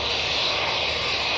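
A Lufthansa jet aircraft passes close in front at an airport, its engines producing a loud, steady, broadband roar that holds without pause.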